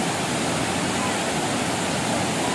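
Tirathgarh waterfall in Bastar, swollen by monsoon rains, roaring as a steady, dense broadband rush of falling water that stays loud and unbroken throughout, with no talk over it.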